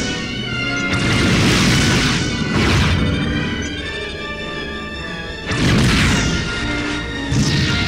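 R-torpedo hits slam into a starship in the video game Starfleet Command, a series of loud booming crashes, one after another, with rumbling explosion tails between the heavy impacts and no voices.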